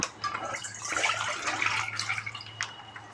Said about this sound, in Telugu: ఒక కళాయి పెట్టేసుకొని గ్యాస్ ఆన్ చేసుకొని కింద అడుగంటకుండా ఒక 1/2 గ్లాస్ వాటర్ పోస్తున్నాను